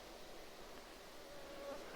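A faint, steady mosquito buzz hums under quiet outdoor ambience in the British Columbia wilderness, with a thin whine rising briefly near the end.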